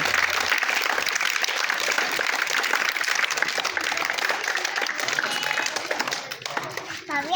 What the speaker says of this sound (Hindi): हाँ, ताली बजाओ, ताली।